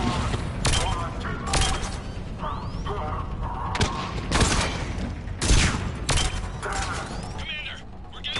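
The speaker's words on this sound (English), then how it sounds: "Commander, we're getting a lot of mortar fire." Mass Effect 3 battlefield with mortar fire and gunfire: loud, irregular blasts and sharp cracks erupt repeatedly over a steady roar of combat, with voices talking beneath.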